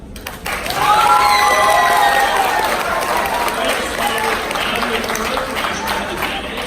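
Audience applause fills a gubernatorial debate hall after a candidate's speech, sustained clapping from a crowd that swells quickly and holds steady, fairly close and loud.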